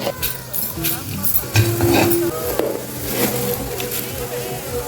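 Coriander seeds dry-roast in a pan for a bitter gourd spice powder, giving a steady soft sizzle with scraping stir strokes throughout, fairly close.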